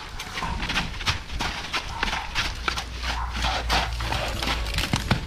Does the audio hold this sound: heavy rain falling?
no